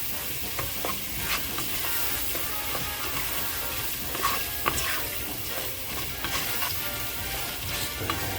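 Gumbo, seasoned with salt and pepper, is stirred in a pot. A steady sizzling hiss runs under repeated scraping and stirring strokes, close and continuous, with no talking.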